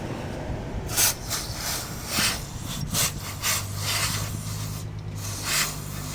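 A cloth wipes cleaner spray off the throttle body of a Toyota Vios with a 1NZ engine that won't accelerate and stalls, making repeated close, loud rubbing strokes in an uneven rhythm.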